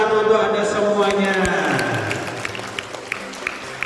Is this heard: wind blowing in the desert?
no